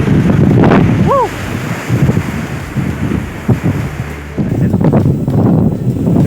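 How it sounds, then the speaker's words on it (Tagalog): Strong wind on a hilltop at Apao Rolling Hills, Tineg, Abra, buffets the microphone with heavy rumbling gusts throughout, loud and roaring, with a brief faint chirp early on. "Sobrang lakas ng hangin dito sa Apaw, Rolling Hills."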